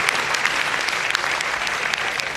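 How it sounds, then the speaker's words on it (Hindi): Audience claps steadily and densely at a community gathering in Sadri, Pali, where Ashok Gehlot is speaking, filling the hall with loud, close applause and no talk over it. "तो ताली तो बजाओ कम से कम"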